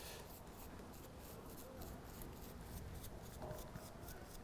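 A brush scrubbing and smoothing the surface of a sculpted gorilla, a soft, steady rhythmic rasp of repeated short strokes, close and quiet.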